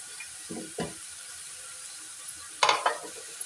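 Capsicum, spring onion and cabbage stir-frying in a pan for chicken Manchurian, a faint steady sizzle broken by a few short scraping stirs, the loudest burst near the end; no talk.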